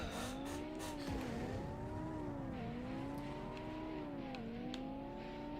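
A race car engine in the Acceleracers video game drones steadily with a strong harmonic whine, its pitch dipping and rising in repeated swells as it revs through gears, loud and continuous with no talk.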